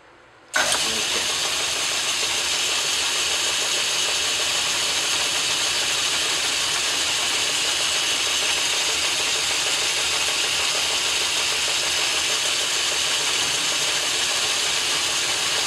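A lathe turns steel stock for an adjustment screw down to a quarter inch diameter, its motor starting abruptly and then running as a loud, steady, even whir with no talk.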